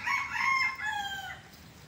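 A small backyard rooster crows up close, loud and drawn out, with no other sounds around it.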